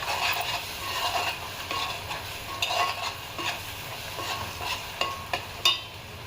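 Green chili paste fries in a pan with cumin-fenugreek powder, a soft close sizzle broken by a few sharp spatula scrapes and taps against the pan toward the end.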